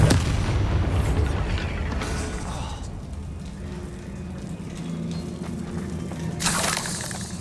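A Bombarda spell explosion in the Hogwarts Legacy video game: a heavy boom at the start that rumbles and fades, followed by a sharp crackling burst near the end.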